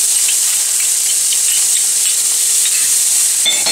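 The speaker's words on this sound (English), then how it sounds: "All I'm going to do is give this a quick saute." Chopped onion and minced garlic sauté in olive oil with a loud, bright, continuous sizzle right up close. A brief stirring scrape comes near the end, and no one speaks.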